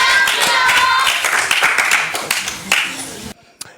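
Audience clapping and cheering for the Real and Barça clubs of Chad at a live challenge event, a dense burst of applause and voices that stops abruptly, followed by a single faint clap.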